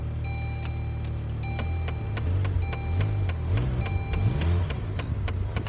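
A high-mileage Saturn car engine cranks and catches, its pitch rising and falling in repeated surges over a steady mechanical hum, fairly close.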